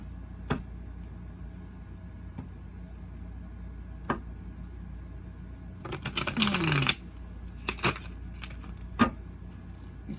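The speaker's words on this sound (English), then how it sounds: "These cards don't want to shuffle anymore." A brief flurry of riffled card shuffling, crisp and close, preceded by scattered soft clicks and taps in a quiet room.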